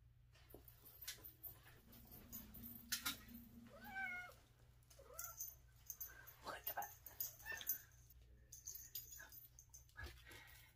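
A cat meows repeatedly while being put in a costume, scattered short whiny calls over about ten seconds, faint and close, with a person talking quietly between them.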